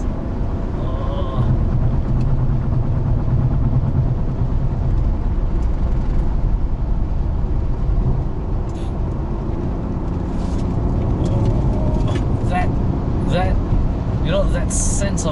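A BMW E39 car engine pulls steadily under load through bends, a loud continuous low drone of engine and road noise that holds the whole way through, with someone talking over it.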